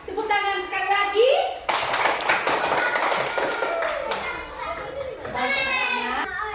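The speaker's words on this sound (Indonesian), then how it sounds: "Tepuk tangan sekali lagi" Schoolchildren clap their hands together in a classroom, a burst of sharp, quick claps lasting several seconds, with children's voices calling out over and around it before and after.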